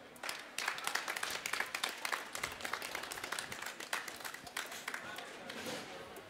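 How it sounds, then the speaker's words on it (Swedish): Spectators at a cooking competition semifinal give a warm round of applause for restaurant-school students, dense clapping that is fairly faint and distant, with some background voices mixed in. "med en hjärtligt varm applåd."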